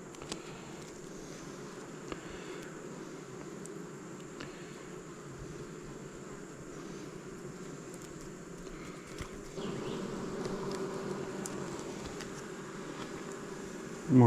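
Honeybees hum steadily around a new hive during an inspection, a continuous even buzz that stays at a similar level and grows slightly louder near the end. No voices are heard.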